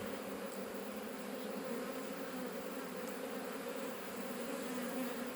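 Bees swarm at their hive among buttercups and Christmas trees, a dense, unbroken buzzing drone that holds steady and fairly loud throughout with no speech.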